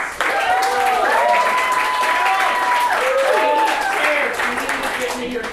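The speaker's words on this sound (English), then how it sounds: "give up please a round of applause." Audience applause at an anniversary celebration, steady sustained clapping from a crowd, loud and continuous, while voices call out and cheer over it.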